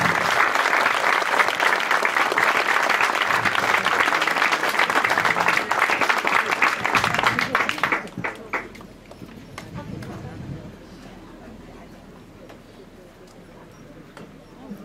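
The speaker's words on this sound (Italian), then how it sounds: "Un applauso per favore." A crowd at a baseball field inauguration in Cervignano gives sustained, loud applause for about eight seconds before it thins into scattered claps and fades under low background noise.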